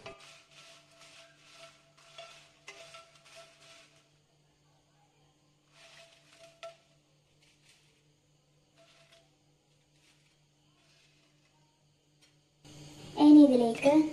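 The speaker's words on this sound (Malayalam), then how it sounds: "ഇനി ചൂടായ പാനിലേക്ക് 20 വറ്റൽമുളക് ഇട്ട് കൊടുക്കാം." Twenty dry red chilies go into a hot pan for a sweet mango and date pickle. A few faint clinks come first, then a long near-silence, and finally a sudden loud rattle and scrape as they are tossed and stirred.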